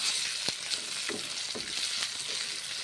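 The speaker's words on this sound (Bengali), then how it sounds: "মুগের ডাল আর বেগুন ভেজে নিচ্ছি এখন।" Mung dal and eggplant frying together in a pan give a steady, close sizzle, with a few soft scrapes as the mixture is turned.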